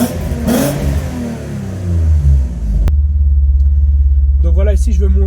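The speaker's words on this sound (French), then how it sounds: "ça fait quand même un beau bruit, je trouve, cette voiture-ci" An Alfa Romeo 156 drift project car with a new intake revs deep and loud close by, then drops to a steady rumbling idle while someone speaks over it.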